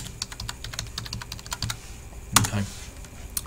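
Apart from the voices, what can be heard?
typing on a computer keyboard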